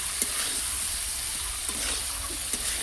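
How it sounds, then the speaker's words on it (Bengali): Potatoes frying with salt and spices in a pan for a prawn and pointed gourd dish, a steady close sizzle with occasional scraping stirs, no voices. "আমি নাড়াচাড়া করে ভালো করে আলুটা ভেজে নেব"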